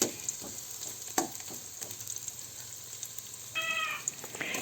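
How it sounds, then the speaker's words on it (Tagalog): Sliced onion and crushed garlic sauté in oil for chicken tinola, a quiet close sizzle broken by scattered utensil taps and clinks, with a brief high squeaky sound near the end. "naglagay na po tayo ng hiniwang sibuyas. Lutuin lang po natin ang sibuyas at ilagay na rin po natin ang bawang"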